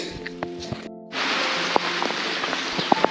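Rain falls in a misty Sikkim village, a steady broadband hiss that swells in abruptly after a brief quiet gap and continues with scattered louder drops and taps close by.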